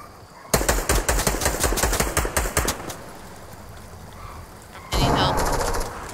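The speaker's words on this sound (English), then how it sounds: "Oh, behind me! I'm getting shot!" Rapid automatic gunfire in the video game Fortnite rattles off in a dense burst lasting about two seconds. After a pause, a second loud burst of shots follows, with no speech during either.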